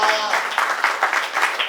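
Church congregation at a Telugu Christmas service clapping together in steady rhythmic bursts, a dense, fairly loud patter with no voices standing out.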